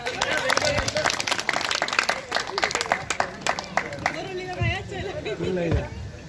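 An audience claps on request aboard a train, a burst of scattered hand claps mixed with crowd chatter and voices, fading into talk toward the end.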